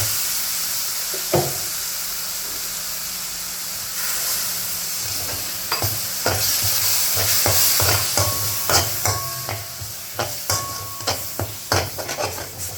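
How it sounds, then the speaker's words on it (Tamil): Chilli and coriander powders with a splash of water are stirred in a frying pan of sautéed onion, tomato and garlic for fish curry, a low simmering hiss broken by a rhythmic run of close spoon clicks and scrapes. "இதில் கொஞ்சமாக தண்ணி ஊற்றி ஒன்றா கலந்து விட்டுக்கலாம்."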